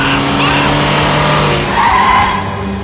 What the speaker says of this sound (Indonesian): Dan pas udah deket, tiba-tiba dia ngerem.